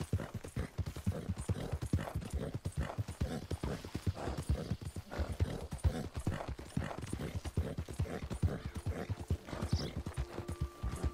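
Horses in Red Dead Redemption 2 trot along in a steady clip-clop rhythm of hooves for about eleven seconds, fairly close, with a brief whinny near the end.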